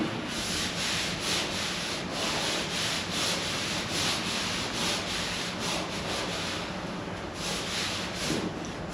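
Hand sanding over a dented metal body panel, a steady run of rhythmic back-and-forth rasping strokes, close and fairly loud with no talk.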